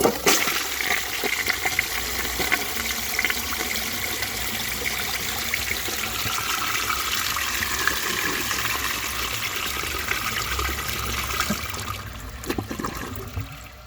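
A 1927 Peerless low tank toilet flushes a washcloth down with a strong, continuous rush of water that gushes steadily for about twelve seconds, then tapers off into a quieter trickle at the end.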